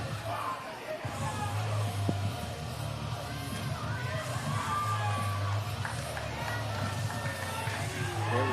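A wrestling crowd gives a mixed reaction after Conway's win, a sustained roar of yelling and scattered cheers mixed with boos, with a commentator's voice running over it.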